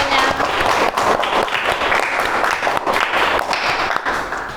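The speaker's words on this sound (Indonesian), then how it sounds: "Oke, kasih aplaus semuanya." Audience applause after a group presentation in a classroom guidance session, a dense sustained clapping from many people at steady loudness for several seconds, tapering slightly at the end.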